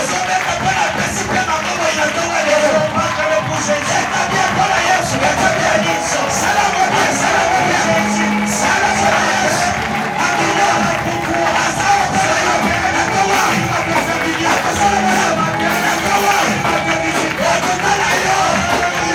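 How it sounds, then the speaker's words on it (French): A congregation at a Sunday church service cheers and shouts in acclaim, a dense, sustained wash of crowd voices and whoops holding steady for the whole stretch. "Est-ce que tu peux acclamer là où tu es?"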